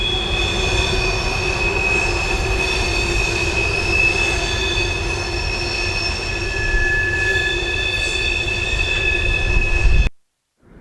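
A CSX freight unit train rolls steadily past on the rails in the Tampa Bay area, loud and close, its wheels squealing in sustained high tones over a constant rumble, then cuts off abruptly.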